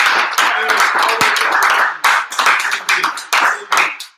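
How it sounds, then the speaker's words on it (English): An audience claps at the World Sneaker Championship top 16 selection, the applause coming in uneven bursts with short dips between them while voices carry over the clapping. "Round of applause."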